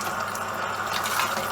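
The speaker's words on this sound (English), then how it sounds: "so we're going to add our water" Water runs and splashes steadily into a pan of Rajasthani lamb curry with yoghurt, a continuous bright hiss with no talking.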